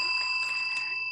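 A bell rung on a morning show, rapid bright rings with steady sustained tones rising out of quiet, short and fairly close, with no talk over it.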